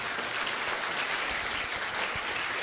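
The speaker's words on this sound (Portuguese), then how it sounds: "Dê uma salva de palmas para Jesus." A church congregation at a worship service on marriage claps in a continuous, dense round of applause, steady and fairly loud from start to finish.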